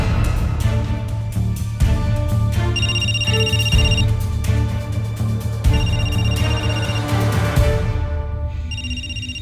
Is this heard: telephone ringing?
yes